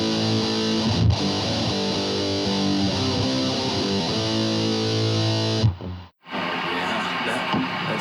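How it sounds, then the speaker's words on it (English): Electric guitar fitted with a super distortion pickup on a circa 1987 instrument, playing sustained distorted chords and notes that ring loudly, then cut off abruptly before a brief resumed strum. "So let me put a little distortion on."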